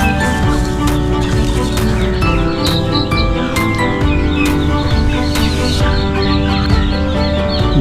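Turkeys on a poultry farm cluck and call in a loud, continuous chorus, many birds overlapping close by with sharp repeated calls and a constant background hum.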